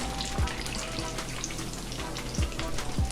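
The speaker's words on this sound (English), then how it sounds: "because it's time to fry up now" Eggplant fries with peppers in hot olive oil in a pan, a steady close sizzle with occasional soft low thumps as pieces shift.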